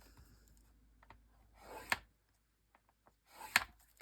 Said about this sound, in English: So I would need to score that at 1/2 inch.